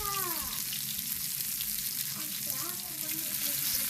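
Fish frying on a banana leaf in a pan, giving a steady close sizzle with soft scraping and stirring as the pieces are turned over, with no talking.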